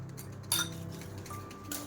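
A small spoon handled against other items, with a sharp clink near the start and a second lighter one later, faint ringing in between, close and clear with no speech.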